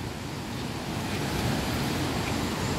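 Tinoyan Falls in Bislig, Surigao del Sur, roars as a steady broadband rush of falling water, close and constant with no other sounds over it.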